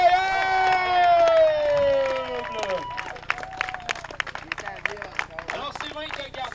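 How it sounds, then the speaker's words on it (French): Crowd at a tournament first holds a long sustained cheer, then breaks into dense applause with scattered shouts and whistles, loud and close, with voices mixed into the din. "Buck, on peut lui donner une bonne main d'applaudissement."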